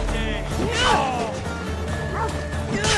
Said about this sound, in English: Now they've got the dogs on me.